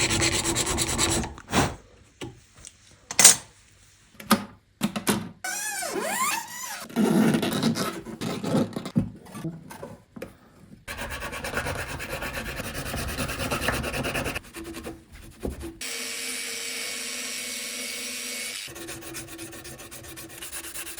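Rough rasping and scraping as string slots are cut into guitar nuts, coming in uneven bursts with pauses, near and fairly loud, ending in a steadier gritty rub.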